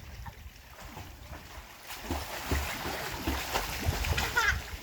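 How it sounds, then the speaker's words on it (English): A child swimmer kicks in a pool alongside a dog, a steady close rush of splashing and churning water that builds toward the end, with voices talking over it. "See if he'll follow your splash."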